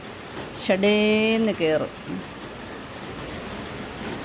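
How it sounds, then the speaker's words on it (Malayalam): Morning rain falling as a steady hiss of noise under a short spoken phrase, continuing alone after the voice stops. "ഇന്ന് നേരം വെളുത്തപ്പോൾ എന്താ നല്ല അടിപൊളി മഴ"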